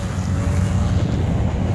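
A lawn mower runs nearby, mowing grass beside the LAX airport viewing spot, giving a steady, loud, rumbling engine drone mixed with wind buffeting the microphone.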